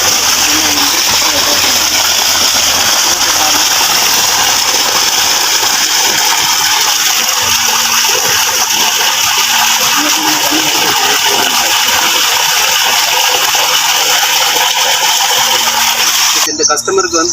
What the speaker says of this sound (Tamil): அதுலேருந்து அவங்களுக்கு தண்ணி வரதை நீங்கள் பாருங்கள்